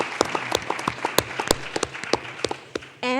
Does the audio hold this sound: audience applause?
yes